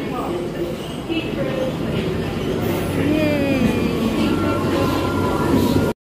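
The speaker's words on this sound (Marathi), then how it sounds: "आली ट्रेन." A London Underground tube train pulls into the platform at Holborn station. Its loud rumble fills the whole stretch, with rising and falling motor whine and brake squeal close by, while an adult and someone talk over it.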